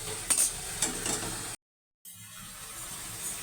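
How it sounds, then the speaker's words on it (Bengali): Ground coriander-cumin paste with turmeric and salt stirred and fried in a pan for a potato and pointed gourd curry with fish head: scraping spatula strokes over a soft steady sizzle, close, with a brief silent break midway. "মশলাটা ভালো করে কষিয়ে নেব।"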